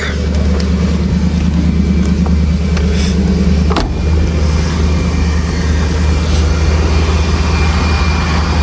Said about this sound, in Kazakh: Пока машинаны от алдырып қоя берейік, қызып тұрсын.